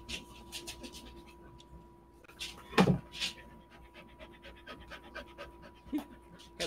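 A dog pants nearby in quick, soft, rhythmic breaths, while faint background clatter and a few knocks sound around it.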